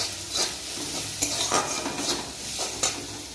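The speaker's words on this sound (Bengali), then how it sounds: "মাছটা একটু পেঁয়াজ কুচি দিয়ে ভেজে দিব" Leftover fish frying with chopped onion in a hot pan, steady sizzling under several close, brisk stirring and scraping strokes of a utensil against the pan, no talk.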